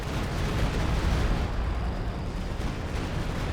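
Rocket artillery barrage from a Panzerwerfer in the strategy game Company of Heroes 2: a dense, continuous rumble of overlapping explosions and booms, loud and steady throughout with no talking.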